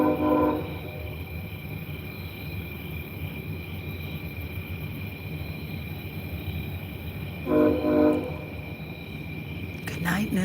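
A train horn sounds in two short harmonic blasts, one at the start and one near eight seconds. Between them runs a steady low rumble with a constant high-pitched hum, fairly loud and without speech.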